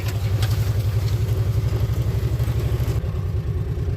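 A Kawasaki Mule utility vehicle idles steadily up close, its engine thumping in a low, even pulse for the whole stretch, with a slight drop in hiss near the end.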